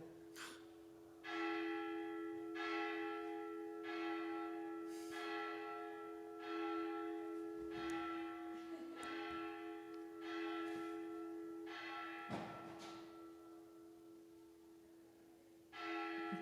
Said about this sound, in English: I will stop for the ringing of the bells.